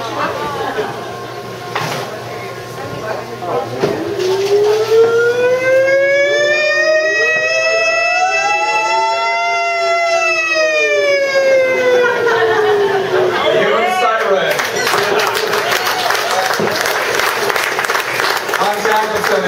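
A wailing siren rises and falls in long sweeping tones, loud and sustained through most of the stretch, over crowd noise and talk at a birthday party.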